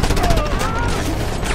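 A mounted gun firing in the action video game Just Cause 2, a dense continuous burst of loud gunfire and explosions under shouted in-game voices.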